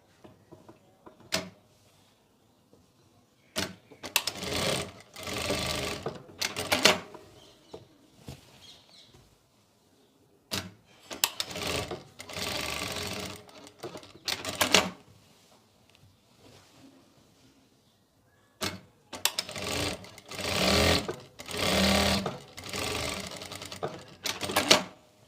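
A sewing machine stitches darts into a woman's suit in fast mechanical rattling runs of a few seconds each, separated by quiet pauses, close and clear with no talking.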